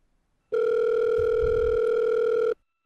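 A telephone dial tone plays while a call is placed, one steady, loud, unbroken hum lasting about two seconds that starts and stops abruptly against silence.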